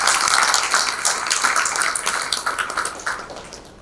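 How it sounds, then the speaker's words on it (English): Audience applause at the opening session of a medical congress, a dense wash of clapping that starts full and gradually thins and fades toward the end. "I think we should give a big round of applause for Chandramouli and Ronak."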